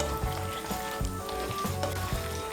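Fried egg pieces are stirred through a hot pan for Bengali egg chilli, giving a close, steady sizzle broken by repeated scraping and clattering strokes of the spatula, with no talk.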